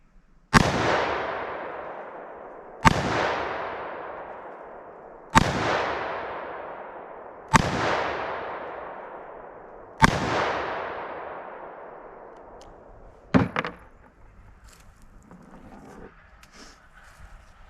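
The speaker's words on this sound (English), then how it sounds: "So I'm going to shoot at the one on the left with the 357, and I'll shoot at the one on the right with the 9mm." Five evenly spaced handgun shots from a .357 magnum and a 9mm pistol fired outdoors, each a sharp crack followed by a long echoing decay, then a smaller double bang and quiet ambient noise.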